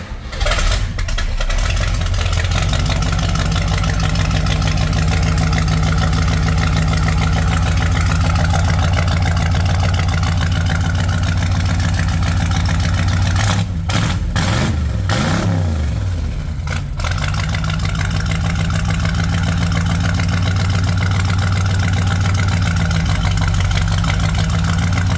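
A 1955 Ford gasser engine idles loudly and steadily up close, a constant rumble with a brief dip and stutter partway through.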